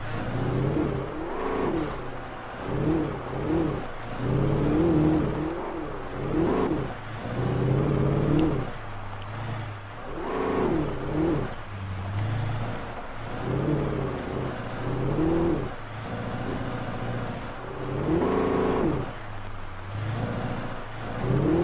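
A car driven in the video game Alan Wake: a steady mid-pitched engine drone that swells and eases in repeated waves, close and continuous, with no voices.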